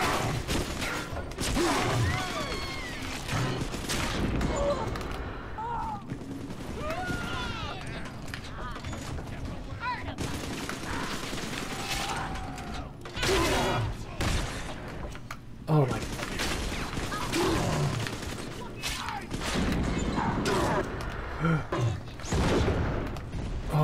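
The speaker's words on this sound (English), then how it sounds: "Go machine gun." A deployed turret's machine gun rattles away in Bioshock 2 during a tough fight, a long dense stream of close, loud bursts with thuds and mechanical clanks mixed in, and occasional voices over it.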